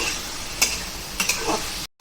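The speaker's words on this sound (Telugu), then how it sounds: "కొద్దిగా ఆయిల్లో ఫ్రై చేసుకుందామండి" Mutton head meat fries in a little oil with turmeric, giving a steady close sizzle broken by a few stirring scrapes before a sudden brief cutoff.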